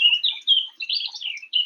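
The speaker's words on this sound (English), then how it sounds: "You hear the birds singing ever so sweetly." Birds chirp and sing in a bright, continuous stream of high tweets, close and clear, with no other sounds around them.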